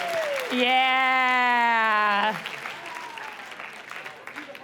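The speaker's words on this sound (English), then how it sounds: "Okay, give yourselves a round of applause." An audience at a confidence-training session gives a round of applause, with a loud, drawn-out vocal cheer riding over the first two seconds. The crowd noise then thins into scattered claps and a brief spoken word.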